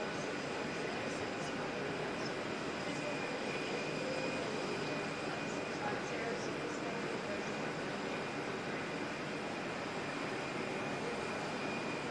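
A distant airliner heads out from Auckland Airport on a crosswind day, a steady faint roar of jet engines blended with wind noise, continuous and even throughout.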